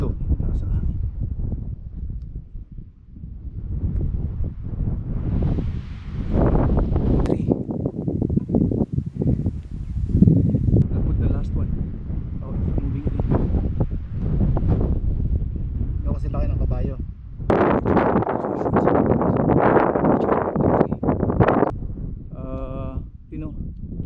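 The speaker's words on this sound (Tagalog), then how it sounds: "Malakas ang hangin." Steady, strong wind roars and buffets the microphone outdoors during a hunt in the Eastern Cape, South Africa, a constant low rumble running under nearby talking voices.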